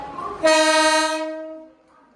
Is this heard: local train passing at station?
yes